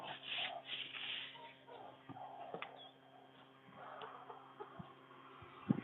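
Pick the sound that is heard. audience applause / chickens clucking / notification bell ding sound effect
chickens clucking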